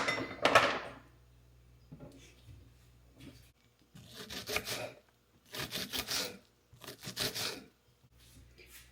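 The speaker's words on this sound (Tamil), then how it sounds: "இஞ்சி தோல் உரிக்க வேணும்" Ginger having its skin peeled in a home kitchen during prawn biryani preparation. Close, soft scraping and rubbing strokes come in short separate bursts with pauses between them, and there is no talk.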